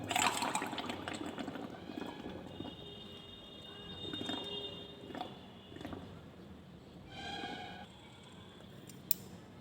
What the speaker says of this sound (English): with the help of this pipe I will blow carbon dioxide from my mouth into this test tube containing calcium hydroxide